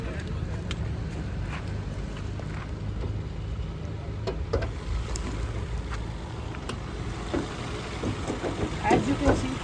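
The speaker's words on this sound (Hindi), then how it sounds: "तो सबसे पहले हम एक बार इंजन स्टार्ट करके देखेंगे कोई एबनॉर्मल साउंड वगैरह तो नहीं है।" A 2023 Honda Elevate's engine runs at a steady idle, a continuous low hum close by with the bonnet open, with a voice speaking over it during a pre-delivery inspection.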